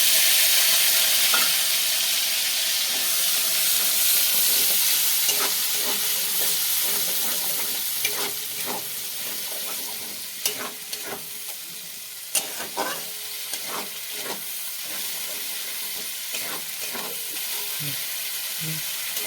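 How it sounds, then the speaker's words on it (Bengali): Onion, garlic, ginger, tomato and green chili spice paste frying in a pan for a paneer masala, giving a steady close sizzle and hiss broken by scattered clicks and scrapes of stirring. "মশলাটা আমি ভেজে নিচ্ছি।"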